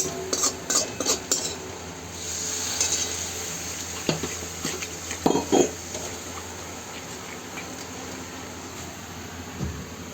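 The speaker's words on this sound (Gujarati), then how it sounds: "આ વાસણ ધોવાના છે" Steel pots, utensils and dishes clink and clatter intermittently at a home kitchen sink by a street food cart vendor, with scattered knocks and scrapes over a steady background hiss.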